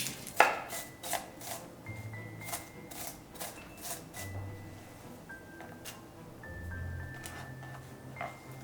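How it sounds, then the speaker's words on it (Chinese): An onion being diced with a knife on a cutting board in a home kitchen: faint, crisp taps of the blade coming in quick, slightly irregular runs, quiet and close with no talking. "首先把拌的洋葱切丁"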